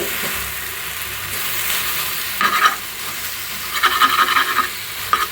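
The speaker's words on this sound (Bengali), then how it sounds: "আর এই তো দেখেন এখানে পাট শাক ভাজিটা হয়ে আসছে প্রায়।" Jute leaves (pat shak) fry in a pan with a soft, steady sizzle, broken by short bursts of scraping and stirring near the middle and end. No speech.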